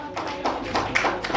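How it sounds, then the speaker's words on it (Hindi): Brief clapping at a business expo event in a hotel venue, a handful of hands clapping unevenly at close range for just over a second. "तो तालियां होनी चाहिए थोड़ी सी।"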